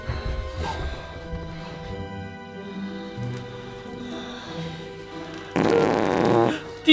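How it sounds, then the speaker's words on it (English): A fart sound effect in a musical comedy parody comes as one loud, buzzing blast lasting about a second near the end, after quieter background music and noise. "Did you just fart?"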